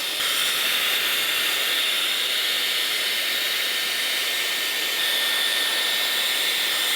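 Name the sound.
Dyson Airwrap with Blade concentrator attachment blow-drying hair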